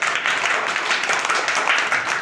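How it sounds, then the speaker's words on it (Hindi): Schoolchildren standing in a line in a classroom burst into loud, brisk clapping that holds steady for a couple of seconds, hands beating fast and unevenly together. "जोरदार ताली"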